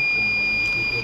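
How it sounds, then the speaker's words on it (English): A steady, continuous high-pitched electronic beep from an RFID ID-based mess entry system sounds for about a second, loud and close, rejecting an invalid person. "it will give a beep sound."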